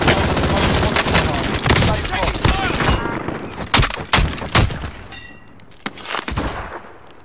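Heavy gunfire in Call of Duty Warzone, a dense, loud barrage of overlapping shots and explosions that thins into scattered sharp reports, with game voices briefly heard beneath.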